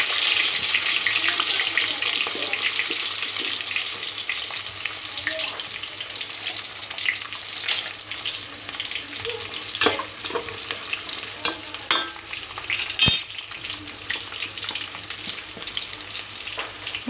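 Drumstick pieces for sambar fry and are stirred in a pan, a moderate sizzle broken by repeated clinks and scrapes of a spoon against the metal.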